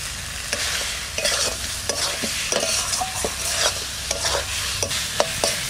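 Potatoes are stirred into a spice paste frying in oil, giving a loud, close sizzle with rapid, repeated scraping strokes of a spatula across the pan, with no one speaking.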